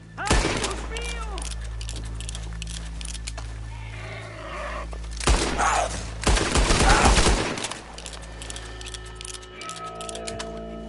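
Gunfire in a Red Dead Redemption shootout: bursts of shots crackle through the first seconds, then heavier blasts cluster around the middle, loud and close, with voices talking between volleys.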